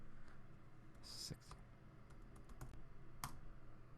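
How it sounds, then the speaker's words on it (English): A password is typed on a computer keyboard in a quick burst of close, crisp key clicks with short pauses, over a faint steady background hum. "All right, let's type it in."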